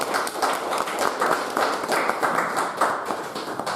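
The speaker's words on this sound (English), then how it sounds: "They deserve a big round of applause." A studio audience at a McCreary County magistrates debate gives the candidates a round of applause, a close, fairly loud and steady patter of many hands clapping throughout.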